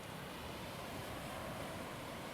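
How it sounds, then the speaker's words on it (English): Steady ocean surf in The Touryst, a continuous broad wash of waves with no distinct breaks, faint and unbroken throughout. "You should be hearing the ocean right now."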